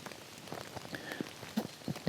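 Rain falls outdoors during a late-season public-land Ohio turkey hunt, with soft scattered raindrop patters and a few louder drips close by over a steady wet hiss.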